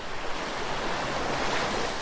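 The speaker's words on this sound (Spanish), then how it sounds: "Escucha las olas, el mar respirando, llegando y alejándose" Ocean waves wash in a steady broadband roar, with gentle swells of surf rising and falling under some wind noise, close and continuous with no voices.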